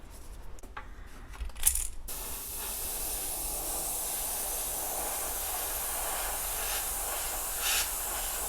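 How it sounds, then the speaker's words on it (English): Compressed air blowing dust off a squarebill crankbait before painting, a steady close hiss that runs for several seconds after a few small clicks and handling noises. "I'm going to blow this off with air just in case there's any dust."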